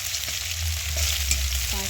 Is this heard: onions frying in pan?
yes